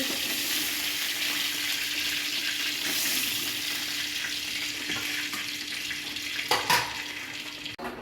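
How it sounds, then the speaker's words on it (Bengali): Pieces of chicken sizzle steadily in a pan while being cooked for a yogurt chicken dish, the frying hiss continuous and close, with a few clinks and stirring noises near the end. "মাংস ভাজা হয়ে গেছে মাংসগুলো আমি এবার তুলে নিচ্ছি আস্তে করে"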